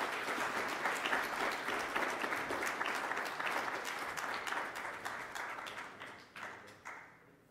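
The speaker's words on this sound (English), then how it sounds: "a round of applause." Audience at a CanBIM certification event in Vancouver applauds, a steady wash of many hands clapping that thins and fades out over the final seconds.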